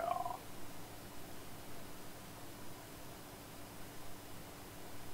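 A pet cat purrs softly and steadily close by, a low continuous rumble over faint background hiss, with a brief higher vocal sound at the very start.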